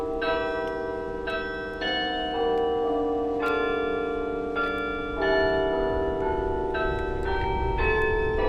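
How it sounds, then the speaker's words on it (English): Several bells toll in a steady sequence at a Michigan State University campus memorial, each clear peal overlapping the fading hum of the last, with a quiet crowd murmur beneath. "the bells tolled in remembrance of the 3 students"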